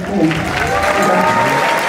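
Audience clapping at a charter school senior signing and robing ceremony, brief loud applause with crowd murmur and a voice under it.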